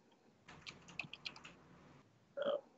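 Quick bursts of typing on a computer keyboard, a flurry of close, irregular key clicks followed after a short pause by a single louder clack, with no voices.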